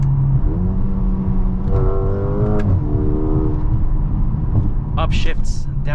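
A 2023 Mercedes GLA 35 AMG engine pulls hard, its note rising through quick gear changes with brief dips between shifts, loud and close from inside the cabin, with a voice speaking over it near the end.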